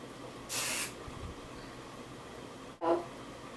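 A short burst of hairspray hisses from an aerosol can, followed after a pause by a second brief spritz.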